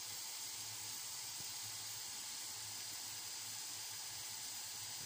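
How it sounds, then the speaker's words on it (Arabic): Onions and other ingredients frying in olive oil make a constant, even hiss with a faint low hum underneath, steady and unbroken, with no speech. "غادي نخليه يتقلى مزيان البصل والمكونات الاخرى"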